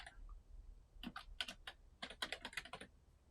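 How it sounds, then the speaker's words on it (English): Fast bursts of typing on a computer keyboard, clustered clicks in two runs with a short pause between, close and fairly quiet in a calm room while someone lists an item for resale. "So I'm just going to type."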